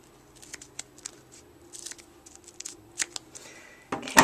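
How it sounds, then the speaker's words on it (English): Scissors snip through an adhesive strip used for beading, giving a string of small crisp cuts and rustles close by, ending in a louder crinkle of the material. "So I'm just going to cut this right in half."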